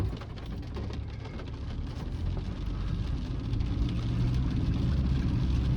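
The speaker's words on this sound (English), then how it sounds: "There's literally water. You can hear it slush when I hit the brakes." Floodwater sloshes inside a car driving through heavy rain, a continuous low wash and rumble of water under drumming rain on the body, steady and close, slowly swelling in loudness.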